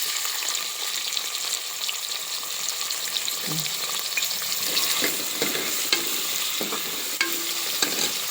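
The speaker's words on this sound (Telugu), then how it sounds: "కిందండి ఉల్లిపాయ ముక్కలు వేసుకుందాం." Chopped onions fry in hot oil for a mutton curry, giving a steady, close sizzle that runs the whole way through, with soft scrapes and stirs rising now and then above the crackle.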